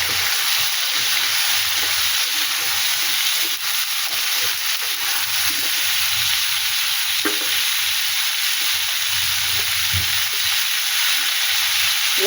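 Mixed vegetables, onion and whole cumin fry in hot oil as the base for a Bengali fish curry, a loud continuous sizzle with light stirring scrapes throughout.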